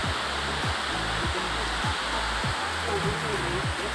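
Chitrakote waterfall roaring as a steady, loud broadband rush of falling water, with low rumbling and intermittent bumps near the microphone and no clear speech.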